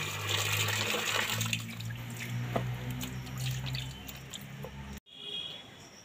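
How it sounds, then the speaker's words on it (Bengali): Okra is washed in water, with close sloshing, squishing and dripping as the pods are handled, continuing for several seconds before a sudden cut to quieter background. "ঢেঁড়সগুলো ধুয়ে নিচ্ছি জলে"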